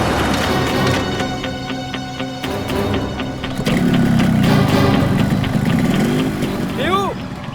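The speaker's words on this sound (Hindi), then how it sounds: "बाइक स्टार्ट हो गई, जल्दी आओ।" A motorbike engine starts up partway through and settles into a steady low idle rumble, heard beneath background music in a TV crime drama scene.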